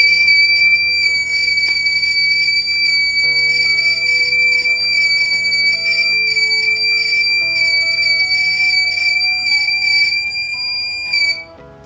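A buzzer on a temperature sensor project with an LED sounds continuously, a loud steady high tone held for about eleven seconds before cutting off, with faint background tones beneath.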